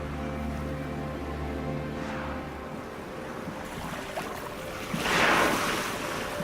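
Ocean waves along the Korean coastline roll in as a soft, continuous surf wash with wind, swelling into a louder breaking wave near the end, with no talk.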